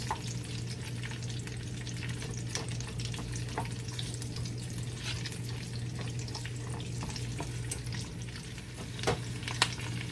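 Onions fry in olive oil with a steady, close crackling sizzle and scattered sharper pops, continuous throughout with no talking.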